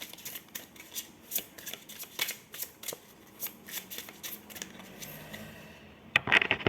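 A deck of cards is shuffled and cut by hand, a series of soft riffling bursts in an irregular rhythm, close and quiet, ending with a sharper flurry of card snaps.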